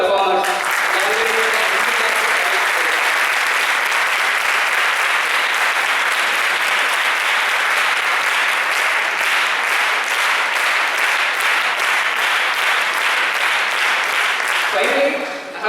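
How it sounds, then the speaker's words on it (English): Loud, sustained applause and cheering from an audience after an orchestra competition at Sri Sathya Sai Institute in Brindavan, a dense unbroken wall of clapping lasting the whole span before trailing off at the end. "the loudest cheer for the audience who cheered up the performers."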